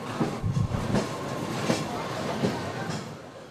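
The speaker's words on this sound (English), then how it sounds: "most interesting way to get to the peak is the Peak Tram, a funicular railway" A funicular railway tram, the Peak Tram in Hong Kong, rumbles along with a steady low roar and periodic clacks as wheels cross track joints.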